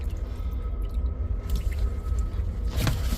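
Plunger worked in a blocked outside drain: steady low gurgling water and wet squelching, with a louder sloshing surge near the end, close and continuous.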